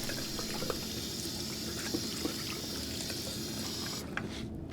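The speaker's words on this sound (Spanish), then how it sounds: "Aquí el grifo se cierra" A bathroom tap runs in a steady, close hiss of flowing water with small splashes, then shuts off near the end, leaving quiet drips.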